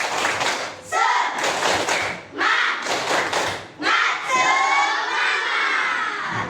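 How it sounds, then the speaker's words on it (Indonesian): A classroom of students performs a rhythmic spirit clap, with loud bursts of clapping and thumping in a repeating pattern and children shouting along between the beats. "Tepuk semangat!"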